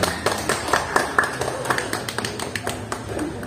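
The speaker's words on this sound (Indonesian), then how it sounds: "Tepuk tangan untuk Pak Mas Dur." An audience clapping in a hotel function room at a university alumni gathering, a brisk spread of hand claps at close range that stays fairly even throughout.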